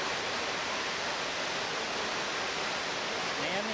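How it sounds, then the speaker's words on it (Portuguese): Waterfall at Cachoeira do Gato on Ilhabela, Brazil: a dense, even rush of falling water that fills the whole span at steady loudness, close by, with no pauses. "mas é uma bela cachoeira."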